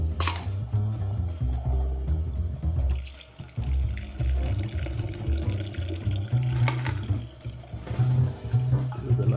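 Liquid pouring and trickling steadily from a teapot while serving tea at a Hendrick's tea party, a continuous close splashing stream with small bumps and clinks along the way.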